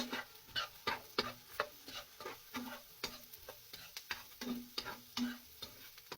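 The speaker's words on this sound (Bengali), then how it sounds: "এখন সবগুলো উপকরণ একসাথে ভালোভাবে ভেজে নিব।" Chutney ingredients, garlic cloves and black cumin for a yardlong bean bharta, stir-frying in a pan, heard as a close, steady run of short scraping stirs over a soft sizzle with no talk.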